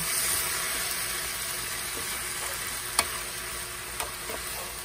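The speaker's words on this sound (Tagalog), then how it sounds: "Mix lang natin until mag-wilt yung ating vegetable" Sayote tops sauté in a pan and are stirred. A continuous bright sizzle carries a few sharp clicks from the spatula against the pan.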